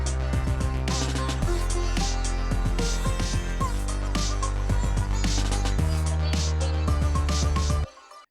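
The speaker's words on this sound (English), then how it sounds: "Then I had like a solid bass that sounds like this." Full music track built on a sitar sample pack with a steady, solid low bass line running continuously under layered melodic parts and percussion, loud and dense throughout before cutting off near the end.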